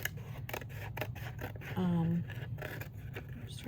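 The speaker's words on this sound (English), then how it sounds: "I'm just going to cut these off and put these in my little scrap box" Scissors snip paper scraps off a journal page in a series of close, crisp cuts, with one longer slicing stroke in the middle, while a person talks quietly in the background.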